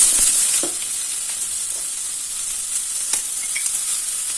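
Onions fry in oil in a pan for North Karnataka-style hennegaayi palya, a continuous close, loud hiss and sizzle with a few faint stirring clicks, no voices.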